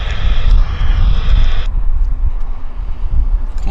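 An Embraer jet climbing away after takeoff on a hazy, smoky morning, a loud steady broadband engine roar that thins midway and continues as a lower rumble.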